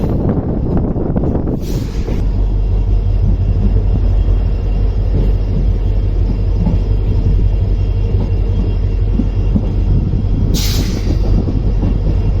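A passenger special train running from Bagalkot to Hubballi rumbles loud and close with a constant deep roar and rattling wagons, broken by two brief hissing bursts, and no voices.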